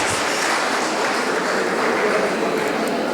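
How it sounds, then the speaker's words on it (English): An audience at a judging session for an APO technical experts program applauds a presenting group. Dense, even clapping fills about three seconds, heard close. "Clap for group number 10."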